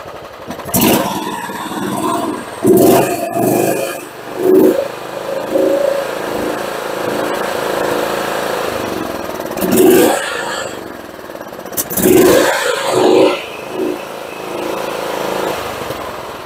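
A John Deere GT262 lawn tractor engine idling low on old fuel, running steadily up close with periodic surges and clattering bursts, while someone talks over it.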